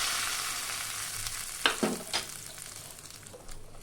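Black mustard seeds, dried chili and bay leaf tempering in hot mustard oil: a soft, steady sizzle with a few sharp pops and clinks partway through, fairly quiet and with no talking.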